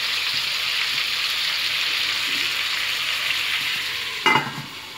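Tandoori chicken pieces cooking under a lid in a pan, a steady, even frying hiss close by, ending with a brief clatter.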